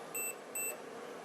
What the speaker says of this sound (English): With this function it will just beep when I touch these two together.